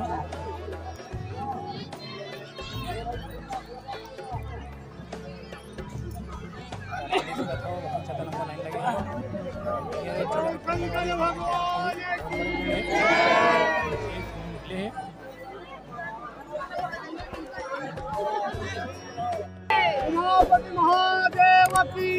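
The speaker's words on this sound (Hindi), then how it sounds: "चारों तरफ आदमी आदमी पूरा लाइन ही लाइन लगे हर तरफ आदमी दिखाई देते बहुत ज़्यादा भीड़" A large crowd of devotees at the Kishanpur Shivling site chatters in a steady, close hubbub of overlapping voices, swelling with louder calls partway through and near the end.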